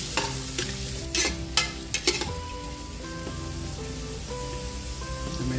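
Ginger, star anise, bay leaves and other aromatics sauté in a pan for a chicken feet dish, with a steady close sizzle and several clattering stirs early on.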